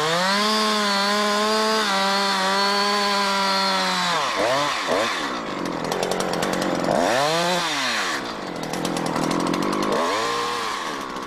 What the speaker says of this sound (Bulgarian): Тъй като шината е по-къса от стъблото, ще трябва да довършите засека от към другата страна.